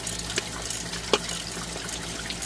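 Coolant pours out steadily from a released water pump on a 2017 Nissan X-Trail T32 hybrid with a faulty coolant pump, a continuous close splashing gush with a few small knocks.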